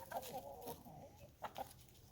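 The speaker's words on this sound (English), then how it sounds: "Got my beautiful chickens back." A backyard flock of ten hens and one rooster clucks in soft, scattered bursts, fairly close but quiet against a steady outdoor background.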